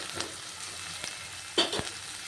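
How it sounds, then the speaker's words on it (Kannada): Tomatoes softening in butter in a pan give a steady low sizzle throughout, with a few louder stirring scrapes near the end; no voices. "ಟೊಮೊಟೊ ಸಾಫ್ಟ್ ಆಗೋಗಂಟ ಇದು ಬಟರಲ್ಲೇ ಬೇಯಿಸಬೇಕು"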